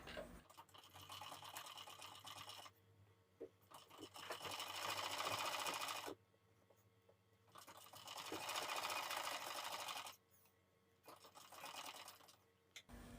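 Sewing machine stitching a blouse strip slowly and straight, a steady whirring drone in three separate bursts of a few seconds each with quiet gaps between, fairly faint overall.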